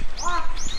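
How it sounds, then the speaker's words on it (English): A crow calls twice directly overhead, each call short and close, with a brief gap between them, in an otherwise quiet outdoor setting. "As soon as he's finished reading, a crow caws directly overhead."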